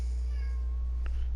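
A cat meows briefly in the Final Fantasy 14: Heavensward game world, a short faint call standing out over a steady low background hum.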